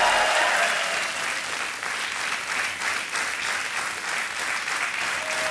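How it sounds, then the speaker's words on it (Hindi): A studio audience on a televised quiz show claps for a contestant who has just won a cheque, producing a continuous, even wash of applause from many hands without pause. "तालियां बजती रहनी चाहिए इनके लिए।"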